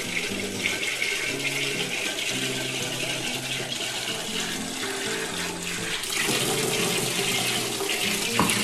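Tap water pours into an electric water heater kettle being filled for coffee, a steady, fairly loud rushing stream that runs continuously with no talking.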